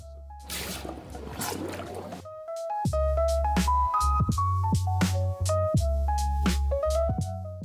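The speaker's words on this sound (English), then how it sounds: "let's quench this middle bit" Hot freshly cast gold plunged into water, giving a burst of harsh sizzling hiss that cuts off, followed by a string of clinking metallic knocks and bright ringing tones over a steady low hum.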